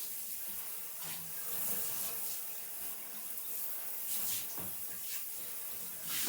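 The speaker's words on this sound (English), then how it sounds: "If you don't have a sprayer, just use a cup and wet your tub down." Water from a tap runs into a bathtub as the tub is wetted down for cleaning, a steady hissing rush with occasional splashes, close and continuous throughout.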